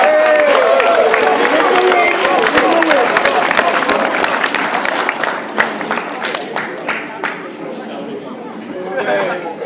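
Students at a school leavers' assembly clap loudly for a male form teacher who is coming up for a present, sustained applause with chatter and a few cheers running through it.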